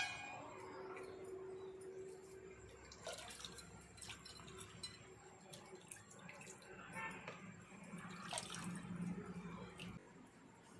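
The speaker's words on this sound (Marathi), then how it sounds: "इकडे दूध आटेपर्यंत आम्ही आंबे धुवून घेऊया." Mangoes being washed in water in a home kitchen, with soft splashing, dripping and occasional light clinks of a vessel, quiet and close, mixed with faint background noise.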